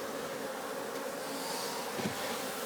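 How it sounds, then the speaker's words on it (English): Honey bees in an open hive during honey-making season, amid fresh comb, fill the air with a dense, continuous buzzing drone that stays steady and close throughout, with no talk. "But that's a lot of bees."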